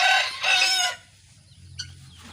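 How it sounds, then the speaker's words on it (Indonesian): Chickens, including guineafowl, cluck in two loud bursts close by, followed by quieter fowl calls and a brief sharp chirp in the background. "yang ini ayam kup, yang ini ayam mutiara"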